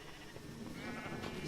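A sheep bleats in the Minecraft modpack BMC 3, a quiet, brief wavering call over a faint background hum.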